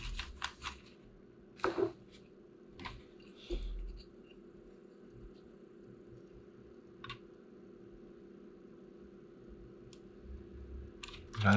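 Several sharp clicks from a Logitech G502 X gaming mouse, a few scattered early on and one or two later, close and fairly quiet against a faint steady room hum.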